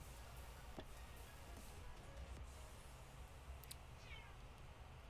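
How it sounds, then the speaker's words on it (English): A cat meows indoors, a few faint calls over a steady low background hum, with no talking. "You hear the cat?"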